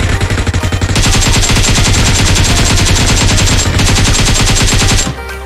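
Rapid automatic gunfire from PUBG Mobile, a dense sustained burst of shots rattling loudly for about five seconds before cutting off abruptly.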